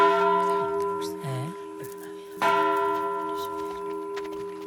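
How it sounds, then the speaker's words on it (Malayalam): A bell rings with a sustained, steady metallic tone that carries through the whole stretch, struck again partway through, while voices talk over it. "അതെ, മണിയടിച്ചത് നന്നായി."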